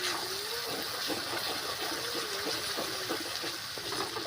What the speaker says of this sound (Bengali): এবার বাটি ধোয়া জল দিয়ে দিলাম